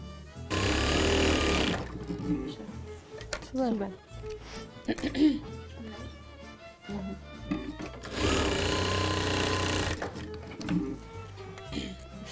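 A sewing machine stitches traditional Roma clothing in a Zakarpattia workshop. It runs in two loud, steady bursts, early and again later, with people talking in the pause between them.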